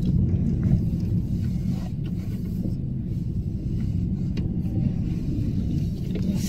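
Car driving to the shops, a low steady engine and road rumble heard from inside the cabin, continuous and moderately loud with no talk.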